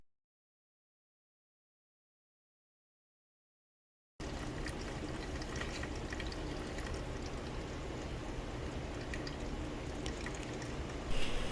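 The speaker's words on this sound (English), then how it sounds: "now we're going to strain the berries through the cheesecloth" Wild blackberry juice trickles and drips through cheesecloth after a few seconds of silence, a close, steady liquid patter with small splashes, and no one talks.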